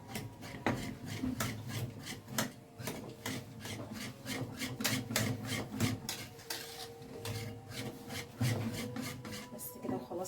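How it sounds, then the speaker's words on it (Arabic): A spoon stirs ghee in a pan, giving a continuous run of close scraping and rubbing strokes in a steady rhythm for about ten seconds, with no talking. "هديها تقليبه."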